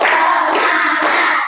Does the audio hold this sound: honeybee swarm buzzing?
no